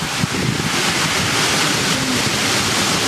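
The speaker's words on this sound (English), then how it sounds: "That was one hell of a wind that just went through." A strong storm wind gust roars past an apartment, loud and sustained broadband rushing with heavy microphone buffeting throughout, no voices.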